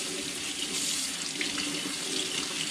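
Running tap water pours steadily into a sink as removable parts of a Bissell Crosswave PetPro vacuum are rinsed under it, a close, continuous splashing hiss.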